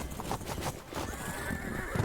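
Horses in the turn-based strategy game Wargroove neigh and whinny loudly, mixed with clip-clop hoof sounds, producing a rapid, busy burst of equine noise up close.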